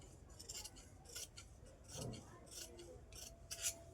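Scissors snip through cloth along chalk-marked lines while cutting a garment pattern, giving repeated short rasping bursts at a steady rhythm, close and fairly quiet with no talk.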